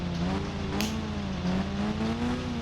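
A steady engine drone with a rising, wavering pitch, a motorbike revving in the game Indian Bike Driving 3D, loud and continuous with a brief hiss partway through.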